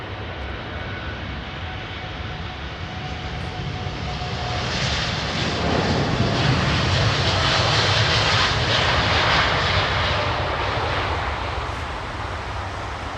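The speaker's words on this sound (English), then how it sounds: "Got a Dreamliner coming out." A Boeing Dreamliner jet taking off from Heathrow's runway 27R, a loud broad engine roar that swells toward the middle and holds steady before easing slightly, with no voices.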